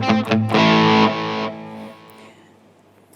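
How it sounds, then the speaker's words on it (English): Electric guitar played through the crunch channel of an ENGL 520 preamp with gain at noon, from a Schecter Banshee 6 FR: a few short picked notes, then a loud distorted chord that rings and slowly decays into silence. "So I think you can get nice crunch tones, rhythm tones out of that channel."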